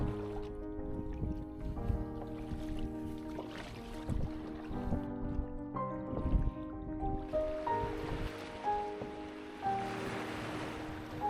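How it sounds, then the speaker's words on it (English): A canoe crosses a bay beneath limestone headlands, with soft water splashes and lapping from the paddle repeating at intervals under a steady musical backdrop. "all that was left now was just to paddle across the bay"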